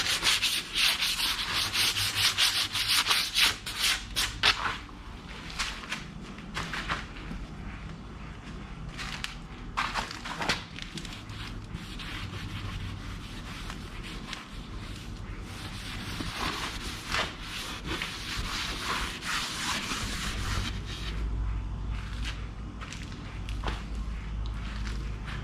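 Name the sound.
sanding to rough up a surface before fiberglassing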